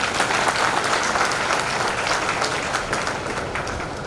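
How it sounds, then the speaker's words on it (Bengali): A hall audience at a Modicare leadership gathering claps in sustained, even applause, a dense crowd of hands heard steadily throughout without a break. "তার জন্য আমি জোর একটা হাততালি চেয়ে"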